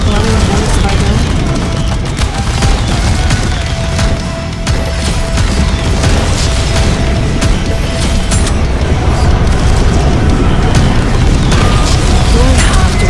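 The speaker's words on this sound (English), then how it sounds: "Everyone's firing all at once." Many guns fire at once in the shooter game Goddess of Victory: Nikke, a loud, unbroken barrage of booms and crackling shots that stays dense and close for the whole stretch.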